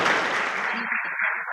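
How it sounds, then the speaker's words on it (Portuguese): A round of applause from a seminar audience at an agribusiness talk. The dense clapping fades partway through as a voice begins to come through underneath. "uma salva de palmas"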